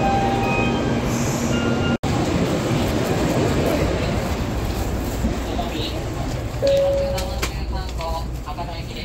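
A Shinkansen Nozomi bullet train runs at speed with a steady loud rumble and broadband rush, a brief dropout near the start, and faint voices and chimes under the noise.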